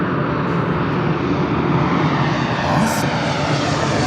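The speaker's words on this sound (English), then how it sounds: "787-9 Dreamliner." A Boeing 787-9 Dreamliner airliner passes at an airport, its steady broadband jet engine roar loud and continuous throughout with no talk over it.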